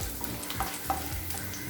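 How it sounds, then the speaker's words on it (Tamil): Dried red chillies frying slowly in a pan for a spicy chutney served with green gram dosa, giving a steady soft sizzle with a few stirring scrapes, close and alone. "ஸ்லோலே வச்சு மிளகாய் கலர் மாறாத மாதிரி நல்லா வதக்கிக்கோங்க"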